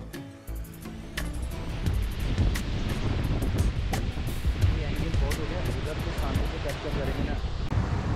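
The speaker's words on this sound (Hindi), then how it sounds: "केओटी वाटरफॉल, जिसे केवटी वाटरफॉल भी कहा जाता है, मध्य प्रदेश के रीवा डिस्ट्रिक्ट में स्थित है" Rushing water at Keoti waterfall in Rewa district, Madhya Pradesh: a steady, loud broadband roar that fills the whole stretch, with wind buffeting the microphone and a voice talking over it.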